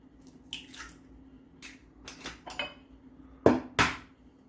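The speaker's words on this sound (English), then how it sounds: "Into that I'm going to crack 2 eggs." Two eggs cracked into a bowl while making a wild garlic and cheese dish: a few light, scattered taps and clinks, then two sharp, loud knocks close together near the end, with no talking.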